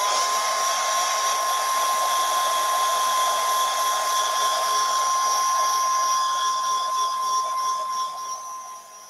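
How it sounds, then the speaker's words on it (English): Heat gun blowing steadily to dry paint on a shabby chic lantern, a close, loud continuous whine and rushing airflow that holds constant before tapering slightly at the end, with no talk. "So there we are with the heat gun because it wasn't quite dry."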